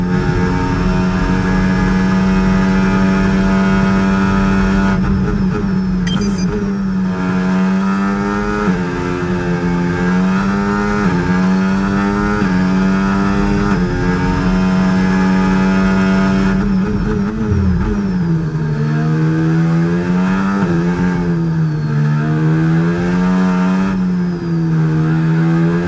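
F1 race car engine in the game F1 25, a loud, continuous high-pitched whine that climbs and drops through repeated gear shifts with steady revving, close and dominant throughout.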